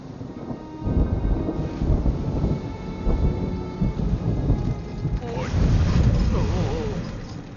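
Rolling thunder and heavy rain of a storm at sea, heard aboard a rocking boat, a steady dense roar with deeper rumbling swells building toward the end, continuous and fairly loud, with no speech over it.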